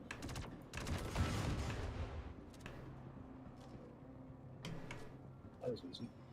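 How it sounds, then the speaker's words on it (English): Faint rapid gunfire in Star Citizen as red crates are shot, a burst of quick shots at the start followed by a few sporadic cracks, with people talking over it. "open fire on crates"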